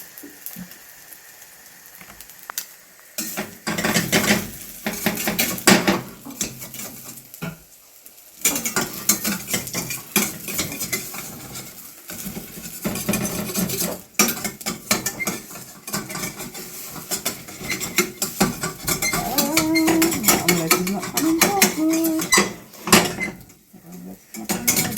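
An omelette cooking in a stainless steel pan, with steady clattering and scraping of a utensil against the metal, a faint sizzle, and pan knocks that run through the whole stretch, close and fairly loud.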